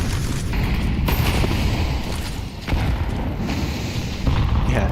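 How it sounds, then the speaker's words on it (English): Grenades going off in a Counter-Strike pro match at ESL Pro League, a dense continuous rumble of overlapping booms and blasts with sharp cracks, loud and sustained. "hear them. Listen to that. Just an orchestra of explosives."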